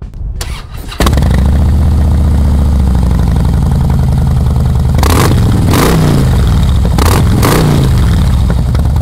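A 2009 Harley-Davidson Softail Deluxe motorcycle cranks over and fires up, settling into a loud, close idle, then revs in several sharp throttle blips before easing back down.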